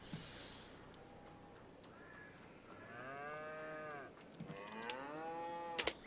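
Cattle on a farm in a farming simulation game give two drawn-out moos, the second longer and fuller, over soft outdoor ambience with a few faint clicks near the end.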